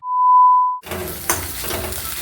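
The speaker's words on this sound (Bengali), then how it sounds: "তো এখানে ডিম পেঁয়াজ ভাজছি" A steady electronic beep cuts off, giving way to egg and onion sizzling in a frying pan with soft, continuous crackling and a light scrape of a utensil.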